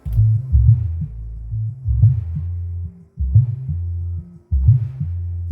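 Deep bass throbbing from a pair of 15-inch low-frequency speakers driven through an ASHLEY King 32 mixer, playing in heavy repeated pulses with brief gaps, loud and close, with no voices.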